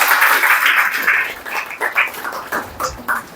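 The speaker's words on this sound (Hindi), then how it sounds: "जोरदार तालियां माही के लिए।" Applause from a school gathering for a student who placed first in the tehsil, loud at the start, then thinning into scattered claps with a few louder bursts.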